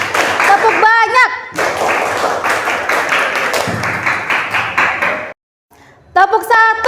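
A group clapping through an ice-breaking clap game in a classroom, with short bursts of claps between a leader's spoken counts, a brief silent pause, then talking again.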